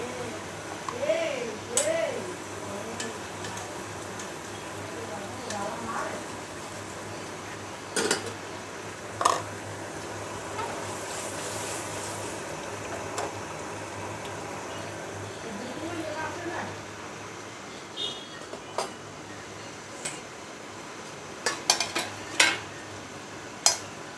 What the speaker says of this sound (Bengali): মাছের ঝোল হয়ে গেছে, এখন গরম মশলা দিয়ে দিচ্ছি।